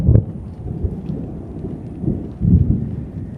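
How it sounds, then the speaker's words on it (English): Thunder rumbles through a Florida storm at Buckingham Trails Preserve, low rolling booms swelling in two or three waves, moderately loud under a soft wash of rain. "Here's that thunder."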